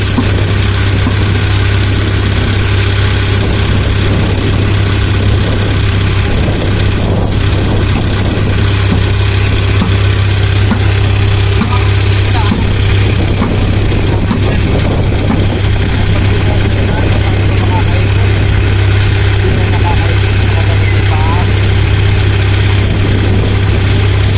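A big fishing boat's engine idles loudly at the pier in Dinahican, an unbroken heavy low-frequency drone with a steady hum, while voices talk faintly beneath it.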